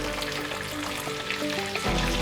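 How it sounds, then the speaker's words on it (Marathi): Mackerel fries in hot oil with garlic, chili powder, turmeric and kokum in a pan, making a steady, close sizzling hiss throughout with no voices. "आता मासा तेलात घातला की चमच्याने हलवायचं नाही"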